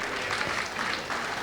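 Steady audience applause at a gala evening, a dense wash of many hands clapping at moderate volume, with no talking.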